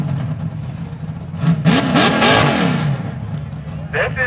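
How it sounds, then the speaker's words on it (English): A brand new 351-powered Ford Raptor off-road race truck revs up close, its engine climbing and sweeping through a couple of loud blips before settling back, with a voice talking over parts of it. "This is a brand new Ford Raptor, 351 powered, sponsored by Lamarche Racing Engines"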